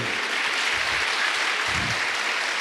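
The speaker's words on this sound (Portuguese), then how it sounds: "Pode aplaudir a Ele, porque só Ele podia fazer." A church congregation applauding in praise during a Portuguese-language sermon, a loud, dense, sustained burst of clapping from many people that holds steady throughout, with a faint voice or two underneath.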